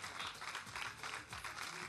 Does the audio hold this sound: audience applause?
yes